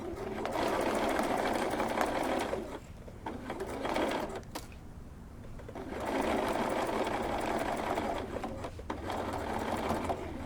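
A sewing machine stitches a holiday bench pillow cover, running in loud steady bursts separated by short pauses.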